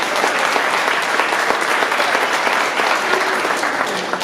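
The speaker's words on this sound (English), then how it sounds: "Under 50, clap now, please." A live reunion-show crowd applauds in a sustained, even burst of many hands clapping together, loud and close, holding steady for several seconds without talk.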